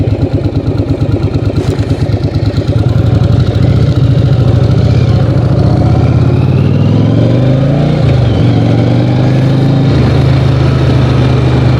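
Yamaha Virago XV750 cruiser motorcycle engine running close and loud as the rider turns around, a steady throbbing idle-like rumble with a brief dip in pitch midway before settling back.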